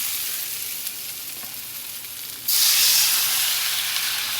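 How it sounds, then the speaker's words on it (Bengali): A vegetable curry sizzles steadily in a hot pan until broth is poured in partway through, when the frying swells into a louder, brighter hiss that continues to the end. "এখন তরকারিতে ঝোল দিয়ে দিব"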